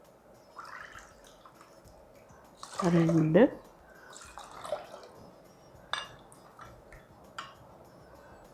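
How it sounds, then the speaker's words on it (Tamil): About three cups of water splash and gurgle into a cooking pot for one burst of pouring, with a few drips afterward while a person talks nearby. "இதில் 3 கப் கிட்ட தண்ணி விட்டுடலாம்."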